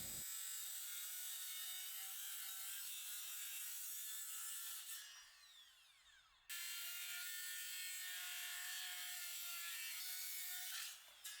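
Lumber is sawn for a post while building an outdoor movie theater: a loud, steady grinding cut runs throughout, drops away briefly near the middle, then resumes at full strength.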